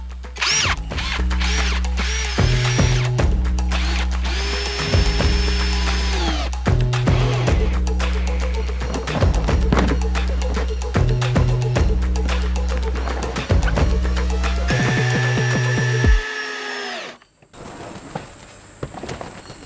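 A cordless power drill driving secondhand roofing screws into a compost bay, repeated whirring bursts with ratcheting clutch clicks, loud and close, then the tool stops and faint outdoor ambience remains.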